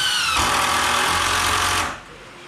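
A power drill drives 2.5-inch weathered screws into wood, countersinking them in one loud continuous whirring burst of about one and a half seconds that then cuts off.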